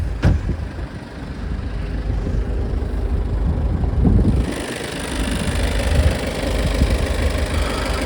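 A used Peugeot's old two-litre HDI diesel engine idles with a steady low rumble and faint knocking, close and continuous, after a brief sharp tap at the start.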